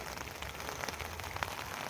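Rain pattering steadily on a tent in the woods during a wet, windy hiking trip, a soft continuous hiss with faint scattered drops, no voices.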